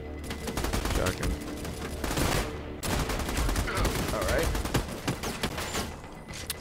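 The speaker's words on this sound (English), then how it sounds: "Shotgun." Shotgun fire in the Army of Two co-op video game, a rapid fusillade of loud game gunshots over a steady battle din, with voices talking during the shooting.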